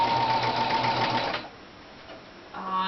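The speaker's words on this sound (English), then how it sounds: "go with the stay stitching a couple of times" A sewing machine runs a close, steady whir while stay-stitching bra straps for a nursing bra conversion. It stops briefly partway through, then starts up again.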